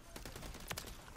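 Rapid gunfire from the Modern Warfare 3 video game crackles in quick bursts, several sharp shots stacked close together over constant game background noise, fairly quiet in the mix.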